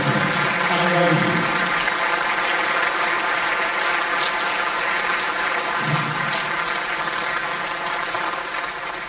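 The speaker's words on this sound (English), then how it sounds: "So I think we should give them a collective round of applause." Sustained audience applause at a theatre organ concert, a dense steady clatter of many hands clapping throughout, fairly loud and close, easing slightly toward the end with no speech over it.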